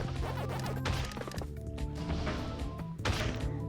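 Heavy blocks slamming down in a Pac-Man game, several sharp thwacking crashes punctuating steady game music, the loudest hits near the start and at the end.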